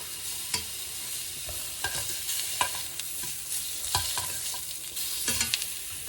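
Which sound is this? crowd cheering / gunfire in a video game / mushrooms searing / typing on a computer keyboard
mushrooms searing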